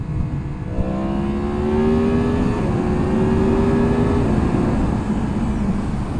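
A 2022 Yamaha MT-10 motorcycle engine pulling hard in second gear around 6000 rpm, a loud, steady harmonic roar with a rising tone over heavy wind rush, close and continuous throughout.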